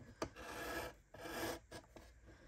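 Paper ephemera is sliced on a guillotine trimmer, giving several close, quiet rasping strokes of the blade drawing through the sheets, separated by brief pauses.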